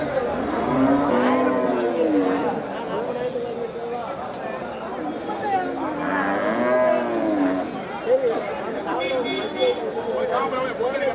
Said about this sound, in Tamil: அது நாட்டு காளையாண்ணா